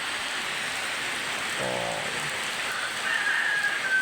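Heavy rain falls steadily over flooded rice fields after an all-night downpour, a dense, continuous hiss that swells slightly toward the end, with no voices.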